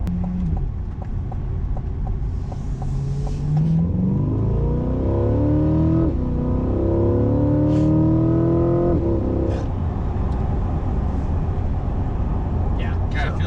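A 2023 Corvette C8 accelerates at roughly half throttle, its engine note climbing steadily in pitch over several seconds. The engine is loud and close, and people talk over it throughout.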